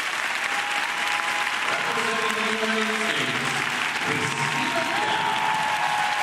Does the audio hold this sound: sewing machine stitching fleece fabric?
no